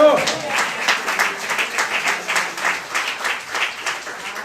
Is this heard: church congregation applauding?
yes